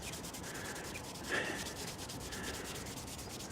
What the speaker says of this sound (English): All I do is squirt on the lighter fuel, rub it backwards and forwards